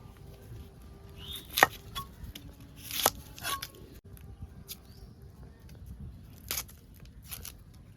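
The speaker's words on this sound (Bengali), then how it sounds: "পেঁয়াজগুলো কুচিয়ে নিচ্ছি" A knife chops onions on a board in a kitchen, giving a few sharp, separate taps spaced irregularly, close and fairly quiet, over low background hum.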